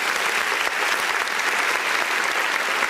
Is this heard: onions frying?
no